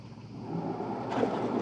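A solar boat driven forwards by a modified forklift electric motor gives a soft, steady whirring hum blended with water wash, swelling slightly in the last half second.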